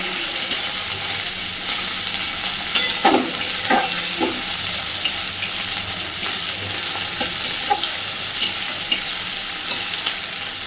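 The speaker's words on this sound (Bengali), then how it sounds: "পেঁয়াজটাকে একটু স্বচ্ছ করে ভেজে নেব।" Onions fry in a pan with a steady, close sizzle while being stirred. Scattered scrapes and light clinks from the utensil punctuate the crackle, with no talking.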